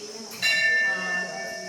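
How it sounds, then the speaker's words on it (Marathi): A temple bell at a prayer wheel in Pelling, South Sikkim rings once as a rod strikes it, a bright metallic tone that lingers and slowly fades under faint background voices. "सो ही बेल ऑटोमॅटिक त्याला टच होत आहे. वाजव आता वाजेल बघ बेल."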